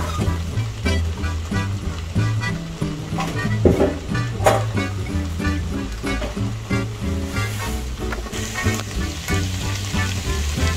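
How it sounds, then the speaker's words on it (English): Ratatouille vegetables simmer in a pan with a steady, dense sizzling and bubbling that runs continuously at close range, without pauses. "Then let it simmer until it softens."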